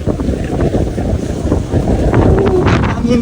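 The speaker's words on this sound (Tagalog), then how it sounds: "Hangin guys." Strong wind blows steadily across the microphone outdoors at a hilltop park in Alicia, Bohol, a loud continuous rumbling buffet with gusts rising near the end.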